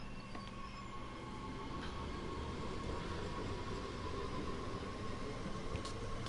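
Train rumbling along the track in Train Sim World 2, a steady low roar with faint hiss and a soft tonal hum, heard from inside the cab with no talking.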